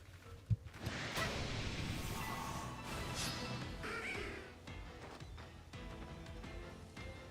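Murkrow crows caw repeatedly in Pokemon Legends: Arceus, harsh game cries over busy in-game background sound, with a sharp thud near the start.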